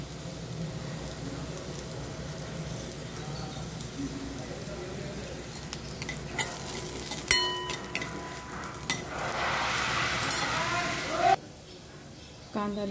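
Cumin seeds sizzling in hot oil with browned onion and garlic for chana masala, a soft steady frying hiss with stirring and a few utensil clinks against the pan, close by.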